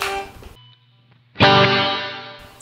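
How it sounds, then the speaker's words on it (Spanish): An electric guitar plays through a Valeton Dapper MDR pedal set to room reverb: a loud chord rings and fades, then a second strong strum swells and decays slowly into a short, roomy tail. "es el efecto room."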